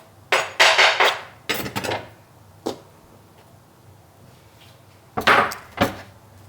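Spring onions are chopped with a knife on a kitchen board in several quick clattering bursts of close, sharp taps, separated by short pauses and one isolated knock.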